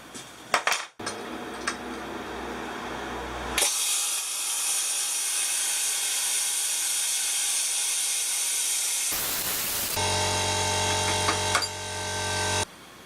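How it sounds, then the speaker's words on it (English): A plasma cutter cuts a circular hole in a metal flange for a Brixton BX125 motorcycle. A loud, steady hiss runs for about five seconds, with clattering metal before and after. "I already have a small hole drilled here, so I can start plasma cutting."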